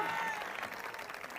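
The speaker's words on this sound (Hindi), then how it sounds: "ताली बजाकर।" A church congregation at a prophet ministry service claps together, a brief burst of applause that fades quickly, with a voice faintly present under it.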